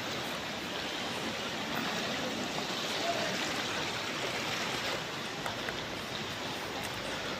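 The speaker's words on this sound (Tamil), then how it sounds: "அந்த செவரு உடஞ்சதுனால அந்த தண்ணி பாருங்கள் அவ்வளோ ஃபோர்ஸாக உள்ளே போயிட்டுருக்குது" Floodwater surges with force through a broken wall in Velachery during Cyclone Michaung flooding, a steady, loud, broadband rushing roar that holds constant throughout without pause.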